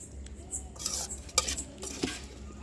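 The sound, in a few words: pounding chutney ingredients finely in a stone mortar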